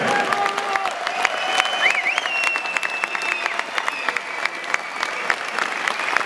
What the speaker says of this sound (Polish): Wielkie oklaski